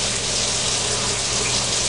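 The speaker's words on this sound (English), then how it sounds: "So, I'm going to run my water to get it hot." Hot tap water runs from a faucet in a kitchen, a loud, steady, close rush of flowing water with no voices.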